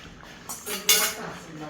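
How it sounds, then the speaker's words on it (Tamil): Green peas tipped into a pan of spiced masala sundal make a brief clattering rush of small pieces hitting metal, rising and then settling back into a quiet kitchen background. "இந்த ஸ்டேஜில் நம்ம பட்டாணியை ஆட் பண்ணிடலாம்"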